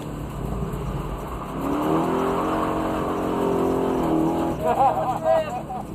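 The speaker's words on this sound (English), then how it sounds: "This is my 2002 BMW M5 that I have fully converted into a track monster." A 2002 BMW M5 converted into a track car, its engine revving with rising and falling tones over a low rumble, close and loud, with voices in the background.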